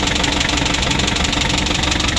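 A car engine with blow-by runs at idle, close and loud, with a dense, steady knocking rumble and no pauses.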